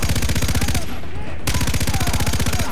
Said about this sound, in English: I'm just firing randomly!